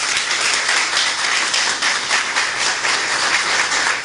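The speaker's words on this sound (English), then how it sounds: "Let's give her a round of applause." A large audience applauds, with dense, steady clapping that fills the whole stretch evenly, loud and continuous with no voices standing out.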